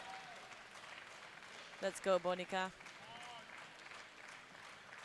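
A crowd at a women's 84+ kg powerlifting world championship claps and cheers in a steady distant wash, with a single voice shouting encouragement partway through.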